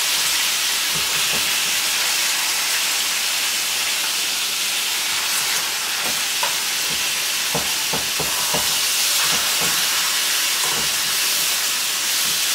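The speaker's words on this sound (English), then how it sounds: "put them in a little bit of grease and olive oil and butter and let them sear." Pork chops sear in a pan of grease, olive oil and butter, giving a loud, steady sizzling hiss close up, with scattered pops and spatters throughout.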